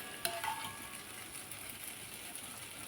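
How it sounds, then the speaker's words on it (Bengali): Spice masala frying in a pan with boiled green peas nearby, a steady sizzle with a brief sharp crackle near the start, close and fairly quiet. "মশলাটা যে কষাচ্ছি"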